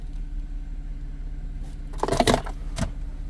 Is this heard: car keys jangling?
yes